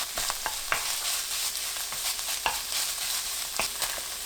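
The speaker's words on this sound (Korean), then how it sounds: "꽁치 넣고 1분 볶습니다" Steady sizzling of canned saury stir-frying in a pan with green onion, with occasional sharp clacks of a utensil stirring and scraping, no voices.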